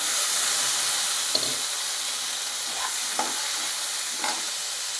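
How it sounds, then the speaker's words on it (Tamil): Curry leaves and ground paste sizzling in hot oil for red soya bean fry, a loud continuous hiss with a few crackling spits and stirring scrapes. "பொரிஞ்சிருச்சு இப்போ கருகப்பிலையே போடுறேன்"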